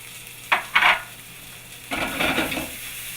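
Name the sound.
onion and red pepper sauteing in a pan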